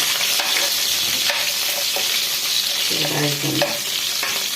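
Onions frying with fenugreek seeds in a hot pan, a steady close sizzle with stirring scrapes and a brief louder crackle as more onion hits the oil.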